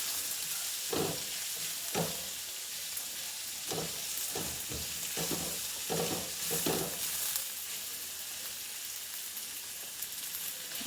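Onions and garlic sauté over medium heat in a pan for home fries, giving a steady close sizzle broken by repeated scraping stirs, with no voices.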